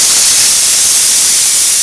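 Pressure cooker in a home kitchen venting steam, a loud, close, steady high-pitched hiss that holds without break, with no talking over it.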